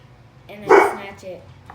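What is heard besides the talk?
dog barking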